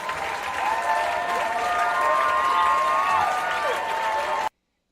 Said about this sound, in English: Give him some applause here.